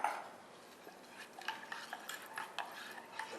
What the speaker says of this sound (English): carefully add this egg yolk mixture, or egg actually, into this and keep on stirring.